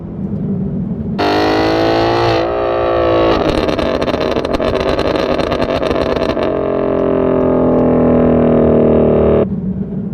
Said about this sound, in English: you can tune the length of the burbles as they come out, the backfires, if you will